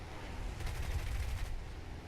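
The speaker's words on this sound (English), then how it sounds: "Take a couple shots at the P400" Machine-gun fire from a Brewster Buffalo fighter plane in War Thunder rattles in one short burst, fairly faint and distant, beneath a steady engine drone.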